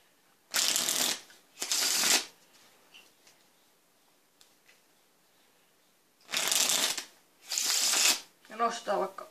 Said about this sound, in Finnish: Nyt sekoitetaan pakka.